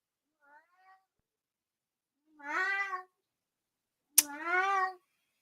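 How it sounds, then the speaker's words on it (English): A cat caterwauls nearby: a faint short mew, then two long, loud, wavering yowls separated by a pause, with a sharp click just before the second. "Don't mind what you just heard. That was my cat."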